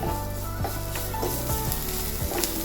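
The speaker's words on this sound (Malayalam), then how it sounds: "ഈ സവോള ഒന്ന് ട്രാൻസ്പെറൻ്റ് ആവുന്ന പോലെ ഒന്ന് മൂത്ത് കിട്ടണം" Sliced onions sizzle in hot oil in a pan for aloo palak curry, cooking until translucent: a steady close crackle with a few soft scrapes of stirring and no voices.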